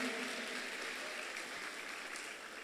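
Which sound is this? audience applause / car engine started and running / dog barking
audience applause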